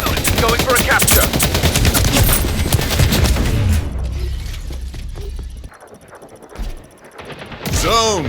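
Rapid automatic fire from the Tempo assault rifle in the video game Splitgate 2 rattles loud and continuous for several seconds, then thins into scattered shots and game effects before another burst.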